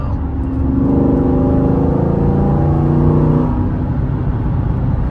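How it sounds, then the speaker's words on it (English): A C7 Corvette Stingray V8 fitted with an Injen cold-air intake and an X-pipe, exhaust in tour mode, revs up to a loud, steady throaty drone that holds for a few seconds, then drops back to idle rumble. "the intake combined with my X-pipe I put on last year, yeah, it sounds pretty good"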